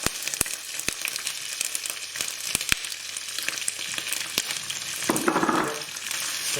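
Onions frying in a hot pan for chicken karahi, a steady crackling sizzle broken by sharp scraping clicks of stirring, with a brief louder hiss near the end.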